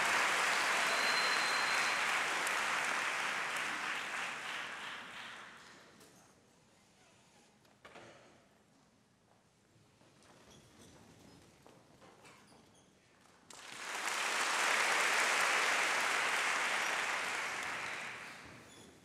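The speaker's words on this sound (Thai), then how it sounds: "ขอเสียงปรบมือให้กับวงโยธวาทิตย์โรงเรียนโยธินบูรณะกรุงเทพมหานครครับ" An audience applauds the Yothinburana school marching band of Bangkok at the MAI Championship 2019, a dense burst of clapping that dies down, a quieter gap, then a second loud round of applause.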